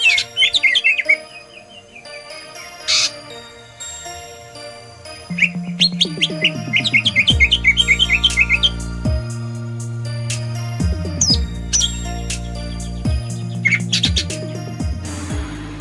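A green leafbird (cucak ijo) sings loudly and close, delivering bright chirping phrases and rapid trills in bursts, separated by brief pauses, with no voices present.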